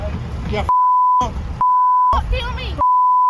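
A steady electronic beep sounds in long bursts, repeatedly cutting over and alternating with loud, close talking.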